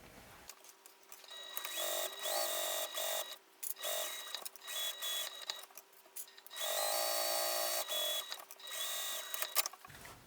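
A sewing machine topstitches the base of a small fabric ditty bag with short, quiet, rapid bursts of mechanical stitching, separated by brief pauses.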